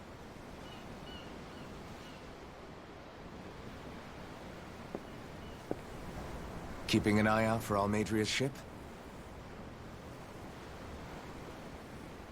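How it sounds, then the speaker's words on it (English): Ocean waves in the video game Tales of Arise, heard from aboard a ship: a continuous soft wash of surf, with a voice speaking briefly over it midway. "The ocean? Yeah. The waves."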